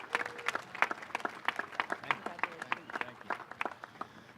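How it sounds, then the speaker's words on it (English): A ceremony audience at the 2019 Long Beach Motorsports Walk of Fame claps steadily in a sustained round of applause, many hands producing dense, moderately loud crackling claps throughout. "Let's give him a big round of applause"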